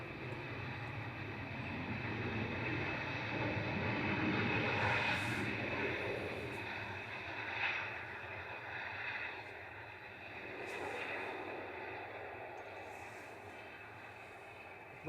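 A Ryanair jet from Belfast lands at Manchester Airport, its broad engine roar holding steady and loud across the clip before slowly easing off into a fading rumble, heard from a distance.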